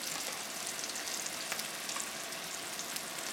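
Brown sauce hisses and sizzles in a hot pan with seared ahi tuna, a dense steady frying crackle with small spits and pops, close and constant, no voices.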